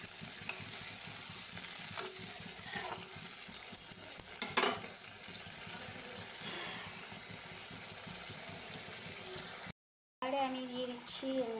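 Mustard paste frying briefly in a pan for Bengali-style sorshe ilish (hilsa): a low sizzle with intermittent stirring scrapes. A short gap follows near the end, then faint voices and more scraping.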